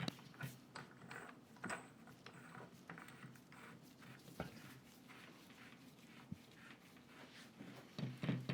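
Metal anvil threaded onto a BV17 tool's nose assembly, giving faint, irregular clicking and ratcheting scrapes close by, with soft handling noises between them and a louder rattle at the end.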